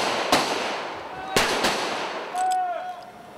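Three sharp rifle shots crack on a live-fire range over a steady outdoor hiss, the first two about a second apart and a third soon after, followed by a brief whistling tone.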